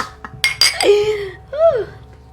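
Glasses clink together in a toast with sharp bright rings, followed by a few short tonal squeaks and thuds, loud and close.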